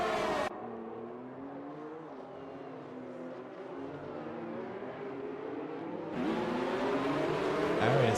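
Racing cars on a circuit, a pack including Ferraris and a Renault, roar past with a sustained engine drone that rises and falls, swelling louder toward the end.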